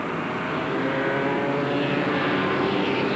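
A race car in a 1994 NASCAR Busch Grand National race at Richmond roars steadily as the driver gets back on the throttle, a distant, even engine wash with crowd-like noise and no talking.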